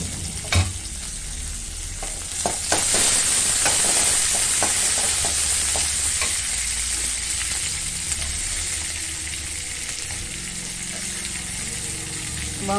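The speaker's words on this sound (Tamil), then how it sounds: "வெங்காயம் நல்லா வதங்கட்டும்." Chopped onion sautéing in oil in a pan for fig poriyal, a steady loud sizzle with scattered stirring clicks and scrapes running throughout, no talking.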